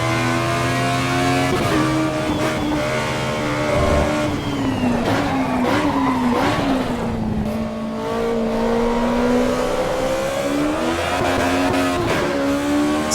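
A race car drifting in Assetto Corsa Evo, its engine droning loud and steady with rising and falling pitch as it revs, with bursts of tire squeal throughout and no talk.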